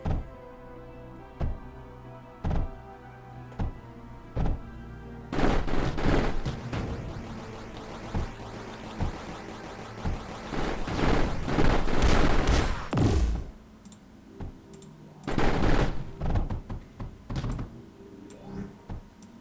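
Salvo turrets firing in the video game Mindustry, delivering rapid clusters of sharp gunfire bursts over a steady game backdrop, with several dense volleys and quieter single shots between them.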